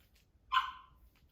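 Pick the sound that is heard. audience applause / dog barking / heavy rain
dog barking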